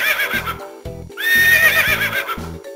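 A cartoon horse from the Bubble Guppies DS video game gives a loud, close neigh with a rising whinny, accompanied by rhythmic clip-clop hoofbeats underneath.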